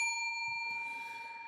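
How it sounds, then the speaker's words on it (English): A single bright bell ding rings out loud and clear, then sustains and slowly decays over about a second and a half with no voices. "Ring the bell."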